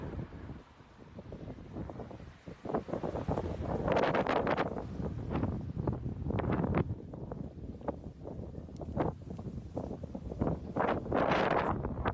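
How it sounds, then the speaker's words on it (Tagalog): Steady wind buffeting the microphone, with gusty surges and rumbling low-end noise throughout, loud and close. "Meron hangin."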